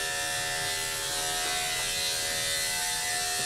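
Andis 5-speed electric hair clippers run with a steady, close, continuous buzz and whine at a constant pitch, alone with no talking.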